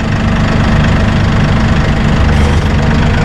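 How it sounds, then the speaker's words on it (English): A Massey Ferguson 1840E hydrostatic compact utility tractor with a 39.4 hp engine idles steadily with a loud, low diesel rumble and knock while its loader bucket is raised, the sound close and unbroken throughout. "drop our bucket down at idle speed. We're going to pull straight back and we're going to watch the loader bucket come up"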